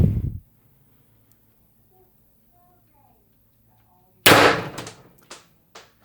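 An X-68 CO2 pistol, powered by a 12g cartridge, fires one sharp, loud shot after a long quiet pause, with a brief rattling tail; a short burst of talk comes just before it.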